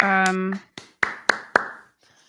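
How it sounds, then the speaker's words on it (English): Four sharp, separate hand claps ring out in an uneven rhythm, close and fairly loud, right after a short stretch of a person's voice, then quiet. "you're clapping while I'm talking"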